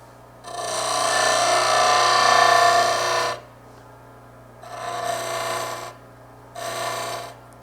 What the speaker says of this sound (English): so I'm going to have to get that with the gouge